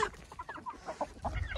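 Chickens cluck and a rooster calls inside a backyard coop, a quick run of short, close, moderately loud bird calls with no talking.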